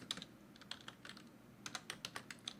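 Typing on a computer keyboard while entering code, with quiet, irregular key clicks arriving in short bursts and spaced taps, close by and alone with no talk.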